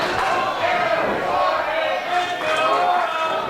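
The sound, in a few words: wrestling crowd cheering for Eric Martin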